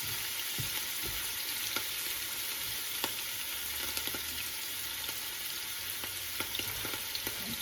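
Grated ingredients for homemade chicken soup sizzle and fry in a pan, a steady, close hiss with small crackles and occasional stirring scrapes throughout.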